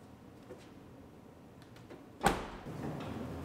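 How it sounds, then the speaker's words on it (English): A door on a 2019 GMC Yukon Denali slams shut in a single sharp thud during body repair on the totaled SUV, followed by a brief rattle, with quiet shop noise before it. "Close the door back up."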